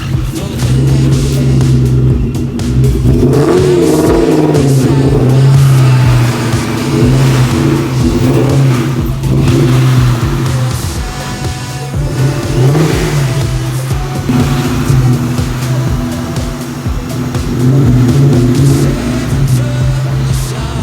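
A boosted NewEdge Ford Mustang engine idles loudly up close, its note swelling in repeated revs every few seconds before falling back, with no talk over it.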